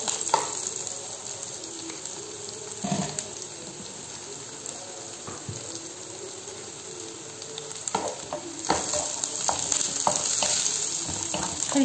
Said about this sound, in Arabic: هنا بنات نحط الثوم، الثوم بسرعة يستوي